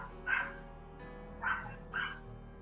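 A neighbor's dog barks three times at a distance, short muffled yelps spaced about a second apart over a steady low background hum, with no talking.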